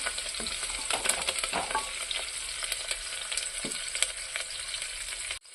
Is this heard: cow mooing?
no